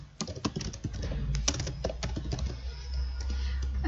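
Rapid typing of Python code on a computer keyboard, a dense, uneven run of close, loud key clicks with a low steady hum beneath.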